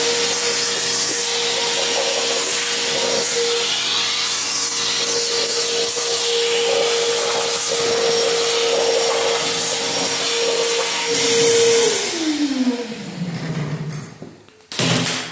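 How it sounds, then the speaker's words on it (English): Shop vac vacuuming Tesla all-weather floor mats: a loud continuous whine with scraping and rubbing, then the motor winds down in pitch before a brief restart at the end. "Start with vacuuming them. My trusty shop vac."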